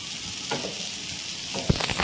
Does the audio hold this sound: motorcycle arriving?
no